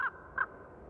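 A raven gives two short, harsh caws about a third of a second apart, fairly clear against a quiet background.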